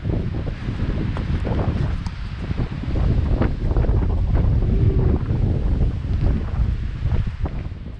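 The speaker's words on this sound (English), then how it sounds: "hear that wind" Strong mountain wind gusts over a hiking trail on the San Gorgonio ascent in California, a loud, steady rushing roar buffeting the microphone throughout.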